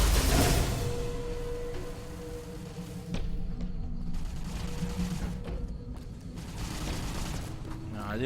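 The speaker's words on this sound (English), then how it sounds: "Who's shooting?" Gunfire in Fallout: New Vegas near an area where a cook needs materials for his cooking machine: dense rattling volleys and sharp shots over steady game noise, moderately loud and continuing throughout.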